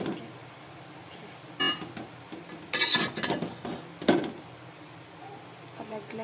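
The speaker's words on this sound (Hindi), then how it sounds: "अब ये बिल्कुल तैयार है, हम इसे थोड़ा सा मिक्स कर लेंगे।" A spoon scrapes and clinks against a pot while cooked chana pulao rice is stirred, giving a few sharp metallic knocks and soft rustling scrapes at moderate volume in a quiet kitchen.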